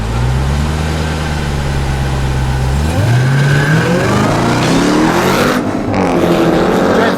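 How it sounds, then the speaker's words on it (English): A 707 hp Jeep Trackhawk SUV launches hard on launch control, its deep engine drone at the start rising into a loud, continuous roar as it accelerates away from close by. "Got launch control enabled, staging the car now. 707 horsepower SUV."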